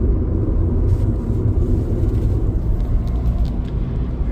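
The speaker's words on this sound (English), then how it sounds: "And now we are driving in the 5th gear." A manual-transmission car cruises in fifth gear, a steady low engine and road rumble heard from inside the cabin, continuous and even with no talking.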